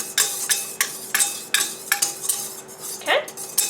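Gluten-free flours being whisked together in a bowl for multi-grain bread, a run of quick metallic scraping strokes against the bowl at a steady rhythm, close and fairly loud, with no talking.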